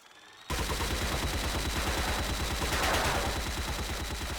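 Rapid automatic gunfire in the video game TC2 starts abruptly after a brief quiet moment, then keeps hammering in a dense, loud, even stream of shots to the end.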